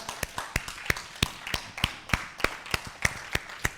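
Clapping for percussionist Dr. Arvin Scott comes in an even, rhythmic run of sharp, fairly faint claps, about three per second.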